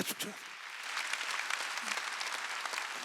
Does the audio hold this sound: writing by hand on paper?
no